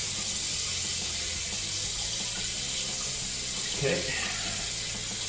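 Kitchen tap water runs steadily into a sink while a cutting board is rinsed of sticky garlic, a continuous broadband splashing hiss throughout, with a brief spoken word near the end.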